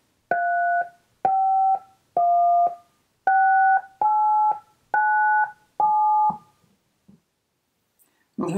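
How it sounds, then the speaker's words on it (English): Seven short two-tone telephone keypad beeps in a steady sequence, each about half a second, followed by a faint click and a brief noise at the end. "we will hear DTMF tones."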